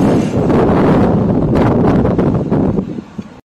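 Strong wind blowing outdoors, buffeting the microphone as a loud, close, continuous rumble that eases off just before the end.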